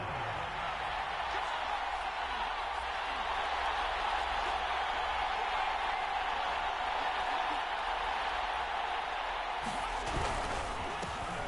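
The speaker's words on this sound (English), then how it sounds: "Here comes a big one as this crowd gets up making some noise" A large stadium crowd at a Panthers versus Ravens American football game roars in a steady, continuous wall of cheering and noise that holds throughout.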